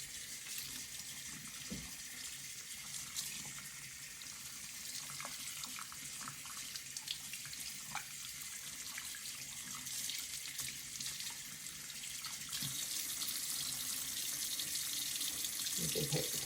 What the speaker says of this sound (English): Rinse our hands.